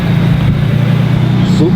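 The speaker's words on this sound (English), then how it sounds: "Is that a Supra?" A Supra sports car passes with a steady, deep engine rumble that holds throughout the short moment, with voices murmuring in the background.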